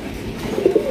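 A large magpie pigeon coos close by, two soft, rounded notes rising out of a quiet background near the end.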